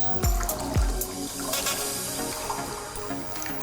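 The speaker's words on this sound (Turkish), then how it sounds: "Şimdi pirincimizi süzüyoruz." Basmati rice being drained through a strainer in a home kitchen, a steady rush of water pouring and trickling throughout, with a couple of low thuds near the start.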